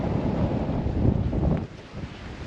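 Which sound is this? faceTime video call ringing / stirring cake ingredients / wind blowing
wind blowing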